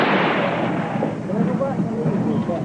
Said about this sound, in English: A gun battle broke out.